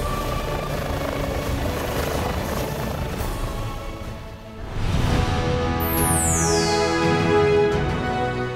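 A medical emergency doctor helicopter at a hospital, its rotor thumping loud and close in a continuous roar that swells midway as the engine note rises, with a high whine sweeping down near the end.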